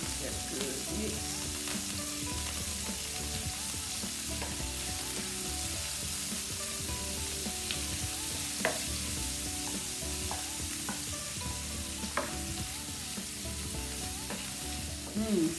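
Beef sizzles and fries steadily in a hot pan for a beef and broccoli stir fry, a continuous loud crackle with occasional clinks of stirring and no voices.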